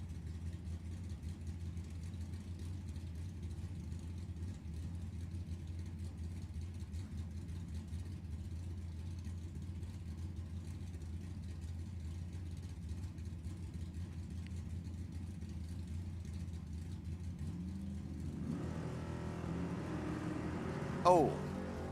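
A Chevrolet Vega and a Chevelle line up for bracket drag racing at Sacramento Raceway, producing a steady, distant engine rumble that swells near the end, while an announcer talks over it.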